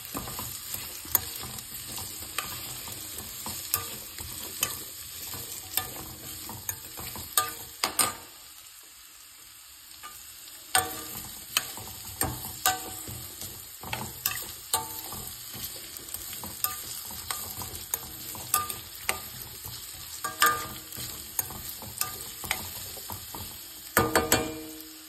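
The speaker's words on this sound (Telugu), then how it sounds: "నేను ఇప్పుడు ఇదే ఆయిల్లో బీట్రూట్ ముక్కలు వేస్తున్నాను." Beetroot pieces fry in hot oil with a steady crackling sizzle, broken by repeated close scraping and clattering of a spoon stirring the pan; the sizzle briefly drops away midway, then resumes.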